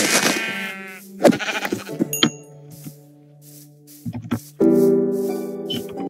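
Sheep in the Minecraft video game bleat repeatedly, loud and close, in several separate calls with short gaps between them and no talk.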